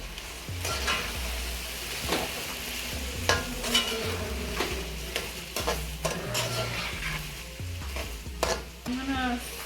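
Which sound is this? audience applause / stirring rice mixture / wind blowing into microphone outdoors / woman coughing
stirring rice mixture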